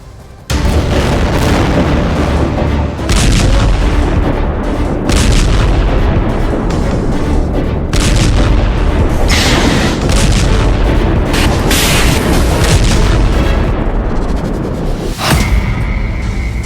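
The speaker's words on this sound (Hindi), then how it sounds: "लेबनान बॉर्डर पर तेज हुई लड़ाई। हिजबुल्लाह ने कई मिसाइल दागी।" Sustained barrage of explosions and booming artillery-like blasts on the Israel-Lebanon border, with Hezbollah missiles firing, loud and continuous with dense overlapping impacts throughout.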